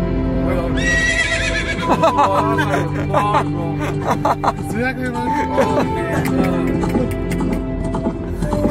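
A horse neighs loudly and repeatedly at close range, long wavering whinnies with snorts, over a steady low rumble and scattered voices.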